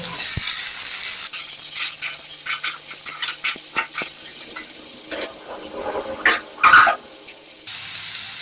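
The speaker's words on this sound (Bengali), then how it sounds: "এবার এতে আমি সয়াবিনটাকে একটু ভেজে নেব।" Soya chunks fry in a pan with potatoes, giving a faint sizzle broken by scattered close clicks and scrapes of stirring, then a couple of louder splashy bursts near the end.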